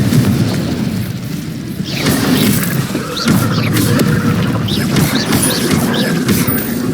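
A Confringo blasting spell erupts in a wizarding video game, a loud booming explosion with crashing debris that rolls into continuous rumbling and clattering effects.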